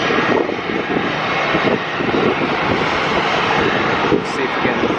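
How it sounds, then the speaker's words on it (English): An Airbus A319 lands at Atlanta airport with a loud, sustained roar of jet engines, and a person talks over the noise. "A319 landing"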